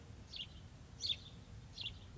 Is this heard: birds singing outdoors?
yes